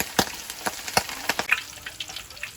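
Pork belly frying in hot oil for crispy pork, a steady close sizzle broken by sharp irregular pops and crackles spread through the whole stretch.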